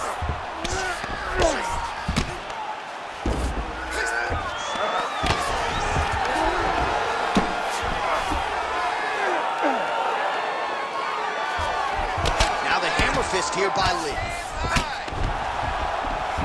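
Arena crowd in the UFC 5 fighting game roars and cheers steadily at a loud level, rising as the fighters return to their feet after a long grappling exchange, with commentators talking over it.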